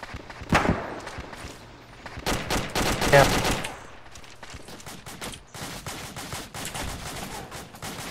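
Heavy machine gun fire in a tactical shooter game, with bursts of rapid shots and booming impacts, loud and close, a sustained heavy volley around the middle giving way to scattered fire, with faint voices under it.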